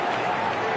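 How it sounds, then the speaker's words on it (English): Crowd clapping at a 2011 World Cup cricket match between India and Bangladesh, a steady broad wash of applause after a fielding stop, with commentary voice over it. "There would have been a fair bit of clapping from football fans for that stop"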